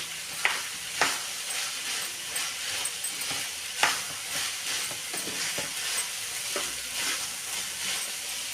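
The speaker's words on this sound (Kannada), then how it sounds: "ಒಗ್ಗರಣೆ ಕೊಟ್ಟಿರೋದನ್ನೆಲ್ಲ ಹೆಸರು ಕಾಳನ್ನು ಕೂಡ್ಕೋಬೇಕು." Green gram is stirred into a sizzling tempering in a pan, giving a quiet, continuous frying hiss punctuated by scattered spoon clicks and scrapes against the pan.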